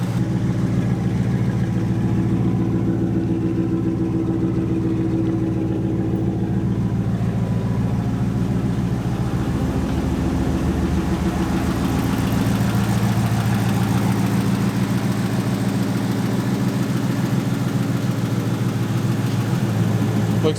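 A Hemi-swapped Chrysler Monaco idles with a deep, steady, loping rumble, loud and close, running continuously without pause.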